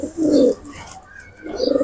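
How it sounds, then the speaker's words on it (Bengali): Two bursts of soft, throaty cooing from a pair of Pakistani pigeons, male and female, close by, with a short quiet gap between the calls. "তো এটা হলো মাদি কবুতর, আর এটা হলো নর কবুতর।"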